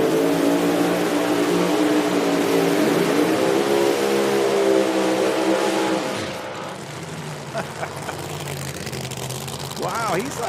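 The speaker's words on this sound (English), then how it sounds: "Jacob McNeil on the burnout, sideways there" A drag racing car doing a sideways burnout at an IHRA qualifying event, a loud sustained engine roar with wavering pitch that drops away after about six seconds, then rising revs return, with commentators talking over it.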